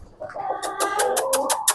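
Young chicks give a run of rapid, high peeping chirps, several short calls in quick succession, close and clear against a quiet background.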